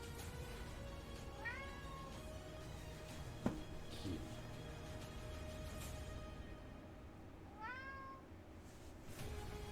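A cat meows twice, each a rising, stretched call, the first early and the second near the end, heard over a steady busy background hum with no talking.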